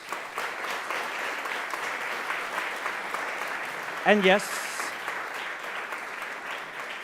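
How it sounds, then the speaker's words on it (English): Audience applause at a winners announcement and awards ceremony in Venice, a steady dense clapping wash throughout, with a brief spoken phrase cutting in midway. "They truly deserve a big round of applause"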